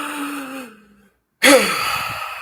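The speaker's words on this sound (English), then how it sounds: "So it's like deep, long inhale, quick, brisk exhale." A person breathes nearby with a long, deep inhale, a brief silent pause, then a quick, brisk exhale that starts sharply, close and clear with no talking.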